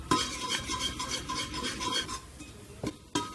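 Spice masala roasting and being stirred in a pan for a Punjabi-style chicken curry in a village kitchen, with repeated scraping strokes of a utensil against the pan over a soft sizzle and a few sharper metallic clinks, and no talk.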